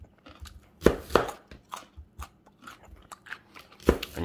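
Carrots being chopped with a new Walmart knife, a string of crisp, uneven crunching cuts close by, a few sharper snaps among softer chops, with no talk.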